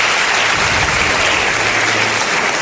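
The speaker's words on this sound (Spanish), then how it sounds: "Para el cual os pido un aplauso a todos los que estéis aquí con nosotros." A live audience at a Spanish talk event on whether Columbus first reached the Americas bursts into dense, loud, continuous applause, a steady wash of clapping without voices.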